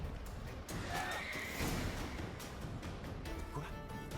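Horse in The Witcher video game neighing briefly, mid-volume, within a dense wash of game ambience and rumble, with talk present.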